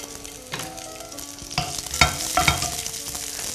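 Scallions sizzling in hot oil in a wok, a steady bright crackle with louder spits and bursts around the second and two-and-a-half-second marks, close and continuous with no talking.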